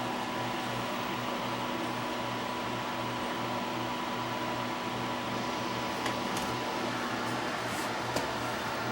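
Electric heater blowing warm air onto a Sony EVS3000 Hi8 VCR, a steady close whirring fan noise with a low hum, continuous and even throughout, with no talking.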